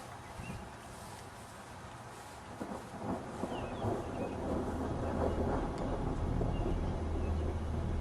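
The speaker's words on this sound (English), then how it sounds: "Got some good thunder sounds in there." Low, rolling thunder rumbles in the distance over steady rainfall, swelling gradually louder toward the end.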